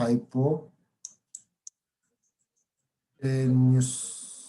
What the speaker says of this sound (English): I'm going to just write it quickly.